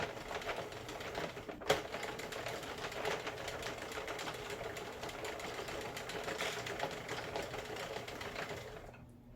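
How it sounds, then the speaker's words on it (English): A Sentro knitting loom is cranked steadily, making a continuous rapid clattering of plastic needles with one sharper click early on, close by and quiet, before stopping at the end. "Pulling more yarn out so I can keep knitting."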